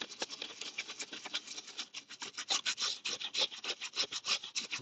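A nylon brush scrubs a car interior coated with purple grease-cutting cleaner, giving steady rapid bristly rubbing strokes, close and fairly loud, with no talking.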